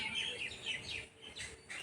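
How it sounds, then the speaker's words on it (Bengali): Small birds chirping in quick, high, thin calls that repeat through a few seconds, soft and fairly close, with no voices. "পাখিগুলো"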